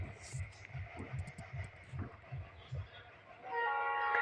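A train in the Trainz Simulator game rumbles with a rhythmic low chugging pulse, then a sustained horn tone swells near the end, while someone talks over it.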